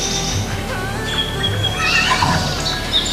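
A horse neighs in an anime scene, a clear whinny over background music and ambience.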